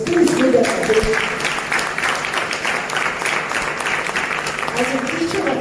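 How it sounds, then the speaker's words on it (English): Applause from an audience for the organising committee at a girls' high school Independence Day program, a steady dense clapping throughout with some talk over it. "Please give them a big clap."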